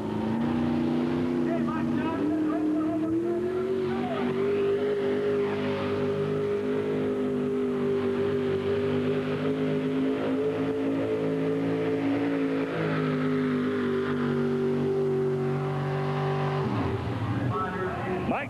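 A pulling tractor at an NTPA tractor pull in Rock Springs, 1991, roars loud and steady throughout, engine note rising as it pulls down the track, with an announcer's voice faintly over the engine.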